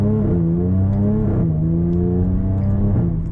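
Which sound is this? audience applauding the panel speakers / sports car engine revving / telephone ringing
sports car engine revving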